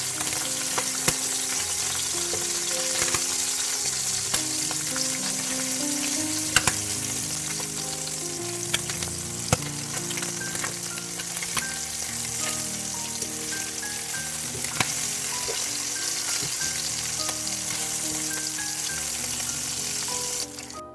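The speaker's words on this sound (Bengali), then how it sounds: "এখন উল্টে পাল্টে মাছগুলো বেজে নেবেন বেশি বাঁচতে হবে না সামান্য বাজলেই হবে" Small tengra fish frying in a pan make a dense, continuous sizzle of crackling oil, close and even in level, with scattered sharp pops all through and no voices.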